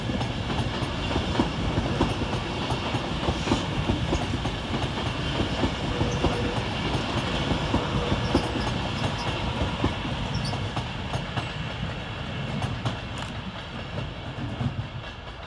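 An Avanti West Coast Class 390 train, unit 390039, runs through Preston station on a Glasgow Central to London Euston service. It gives a loud, continuous rumble with rhythmic wheel clatter and some squeal, and no voices.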